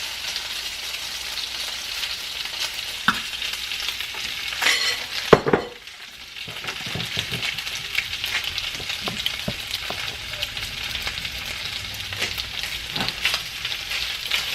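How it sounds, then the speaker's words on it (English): Beef stir-frying in a pan sizzles with a steady loud hiss, punctuated by occasional clinks and scrapes of stirring, with a brief lull midway before the sizzle resumes. "Listen to that sizzle."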